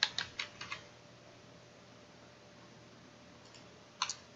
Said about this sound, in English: selecting the face, pressing N on the keyboard